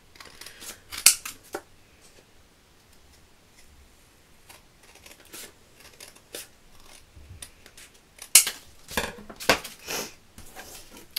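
Scissors cutting card paper for a handmade wedding card, giving crisp, close snips in irregular clusters with quiet pauses between cuts.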